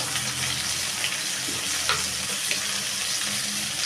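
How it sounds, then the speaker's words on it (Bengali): Taro pieces frying in oil until golden, giving a constant loud crackling sizzle close up, with a few faint scrapes of stirring. "সোনালি কালার করে ভেজে নিচ্ছি কচুর মুখিগুলো"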